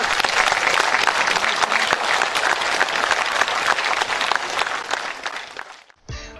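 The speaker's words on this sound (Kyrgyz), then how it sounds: "тасма коюлуп бүткөндөн кийинки кол чабуулар" An audience applauds after a film screening in a hall: full, loud and sustained clapping from many hands that holds steady for several seconds, then thins out and stops abruptly near the end.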